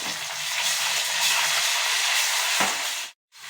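Ginger sizzles in hot oil with curry leaves for a Telugu fish curry, a loud, steady frying hiss with some stirring that cuts off abruptly near the end.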